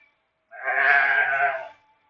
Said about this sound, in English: Sheep, by the way, is what I'm talking about.